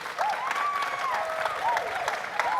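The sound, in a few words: applause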